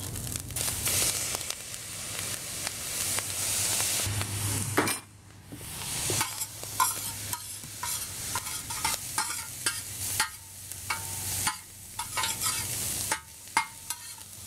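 Cauliflower fried rice seasoned with soy sauce and white pepper is stirred and tossed in a hot pan, a steady sizzle broken by repeated scraping and clanking of the utensil against the metal, close and busy throughout with one brief lull.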